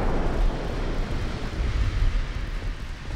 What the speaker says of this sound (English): Oh, the torpedo!